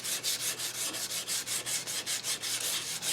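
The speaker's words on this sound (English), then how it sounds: "using 180 sandpaper, it gets dull pretty quickly, but it still does the job." Hand sanding a wooden school desk with 180-grit sandpaper gives steady back-and-forth rasping strokes, about five per second, close and even, with no voices.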